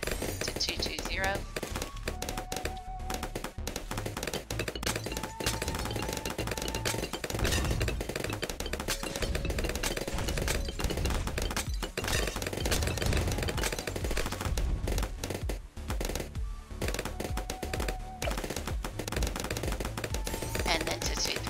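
Sniper monkeys in the Bloons TD6 tower defense game fire a dense, continuous stream of sharp gunshot pops and thunks, steady and busy throughout alongside game music and effects.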